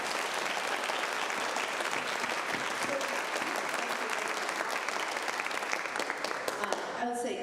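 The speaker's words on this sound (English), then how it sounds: "If you want to clap, you can clap and say one more thing." Sustained audience applause at an evening book event, dense steady clapping filling the room for several seconds and fading near the end.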